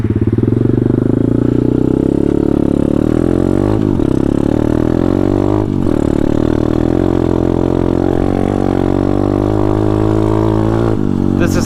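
A pit bike with broken suspension rides a gravel path in third gear, its small single-cylinder engine droning loud and close with rising and falling revs and brief dips in throttle.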